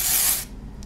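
A single loud spray of Batiste XXL Volume aerosol dry shampoo hisses for about half a second close by, then cuts off, leaving quiet room tone with a faint hiss.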